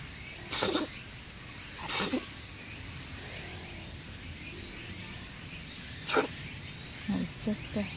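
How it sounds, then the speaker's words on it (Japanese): Small animal sneezing: several quiet, sharp sneezes scattered over a few seconds, a couple in quick succession near the end, against faint room noise. "くしゃみしながら行っちゃったね"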